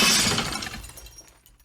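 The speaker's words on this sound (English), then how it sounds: "The glass behind me suddenly shattered with a long bang." Window glass shatters in the visual novel game Heart Cage: a loud, close crash bursts out at once, then its splintering tail thins and fades over about a second and a half.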